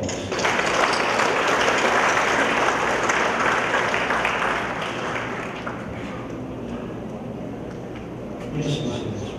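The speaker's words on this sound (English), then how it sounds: "Let's give them a big round of applause." A large audience applauds United Nations peacekeepers at a ceremony, sustained dense clapping that holds strong for several seconds and then eases slightly, a broad hall-wide wash of hands.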